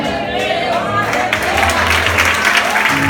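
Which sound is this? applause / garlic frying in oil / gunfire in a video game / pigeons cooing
applause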